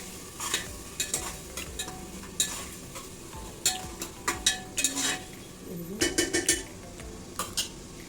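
Cauliflower fries in a pan under a low, steady sizzle while a metal spoon stirs and scrapes it, giving frequent close clanks and scrapes in irregular bursts. No one speaks.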